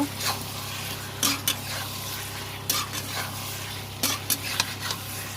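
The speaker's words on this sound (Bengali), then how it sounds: "এবার এর সঙ্গে ভালো করে মিক্স করে কষিয়ে নেব" Paneer and potato curry is sautéed and stirred in a pan for a Bengali aloo paneer dish, giving a soft steady sizzle broken by several sharp scrapes and clinks of the spoon against the pan, close and fairly quiet.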